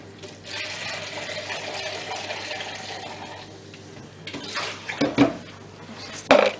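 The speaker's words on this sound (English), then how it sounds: "I just want to rinse that out." Running water rinsing out a container while making pure silk soap, a continuous close splashing rush with a few louder knocks and clatters near the end.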